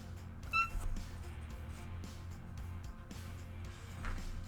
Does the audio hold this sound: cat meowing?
yes